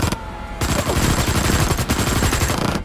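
Loud bursts of rapid machine gun fire, dense rattling volleys that pause briefly and then resume, close and harsh.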